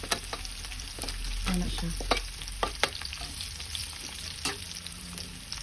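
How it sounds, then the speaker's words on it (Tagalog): Garlic and onion sauté in a pan with a soft continuous sizzle, broken by sharp spatula knocks and scrapes; a brief voice speaks once. "Igisa na dayon na ang ahos ug bombay mga guys, igisa-gisa."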